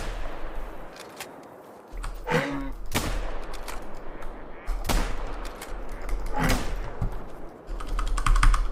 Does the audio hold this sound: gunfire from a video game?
yes